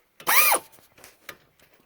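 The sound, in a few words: wrench loosening brake caliper bolt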